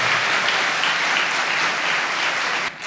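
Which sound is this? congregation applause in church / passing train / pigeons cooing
congregation applause in church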